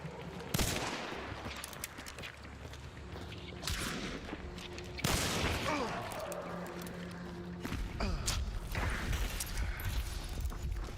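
Chain pistol gunfire in Hunt: Showdown: several sharp, widely spaced shots crack out over a steady background of game ambience and movement noise, some near and loud, others more muffled.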